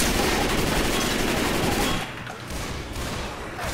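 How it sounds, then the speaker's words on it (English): Video game gunfire in Left 4 Dead 2, a dense, loud burst of rapid automatic shots for about two seconds, then quieter continuing fire, with no talking. "Are you just shooting everyone?"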